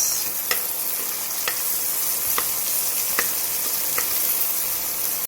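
Garlic and onion frying in hot cooking oil give a steady, close sizzle with a few sharp crackles and stirring scrapes spaced through it, and no talking.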